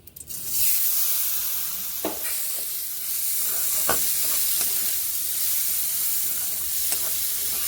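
Gobindobhog rice hitting hot oil and ghee in a pan, a loud burst of sizzling that settles into a steady hiss and crackle, with a few brief stirring scrapes.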